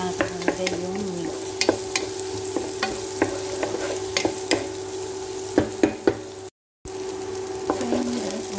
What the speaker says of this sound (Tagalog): Ipag-golden brown na natin yung onion guys. Tsaka natin nalagay yung meat.